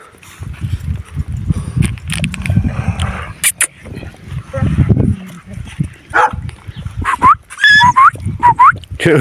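Dogs bark and whine in scattered bursts, some close and some farther off, mixed with people talking and laughing over outdoor noise.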